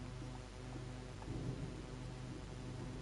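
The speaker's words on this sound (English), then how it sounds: "He just left with the sound of the thunder." Thunder rumbling during a rainstorm in the Train Sim World 3 railway simulator, a low rolling murmur over steady rain hiss, moderately quiet and with no voices.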